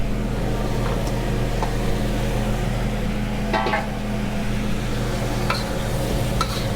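Vegetables going into a pan with cooking meat for tallarin saltado, giving a steady loud sizzle throughout, with a few clinks and stirring scrapes on top and no talking.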